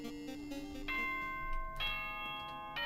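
The Danganronpa 2 video game announcement chime plays as a clear sequence of bright bell tones, ringing in steps with sustained overtones, loud and alone without speech.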